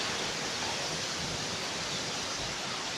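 Waterfall roar at Psilo Tendro Waterfalls, a dense steady rush of falling water heard up close, loud and unbroken throughout with no voices.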